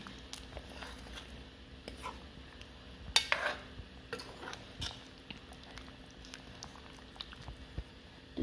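Water boiling in a pot of simple local chicken curry, a low steady bubbling with a few clinks of a pot or utensil and one brief louder scrape or splash partway through, heard close with no talking.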